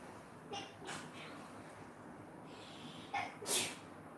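Two quick human sneezes, the second louder and sharper, break through an otherwise quiet room with faint breaths between them.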